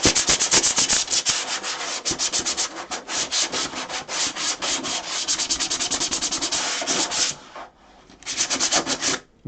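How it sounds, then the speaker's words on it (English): Steady rasping sanding across a painted mannequin, a continuous rhythmic scrubbing with short strokes, loud and close, pausing briefly near the end before resuming. "I'm sure hearing all this sanding sucks"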